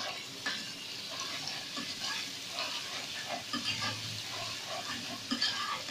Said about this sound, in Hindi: थोड़ा इसको हम भूनेंगे ताकि इसकी खुशबू आ जाए और लहसुन अदरक का कच्चापन जो है वो ख़त्म हो जाए